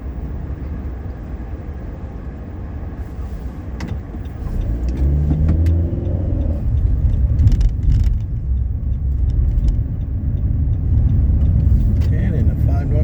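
A car speeds up down a downhill on-ramp onto the 5 North freeway in Nashville, the low engine and road rumble swelling and holding steady from about four seconds on, with speech running over it.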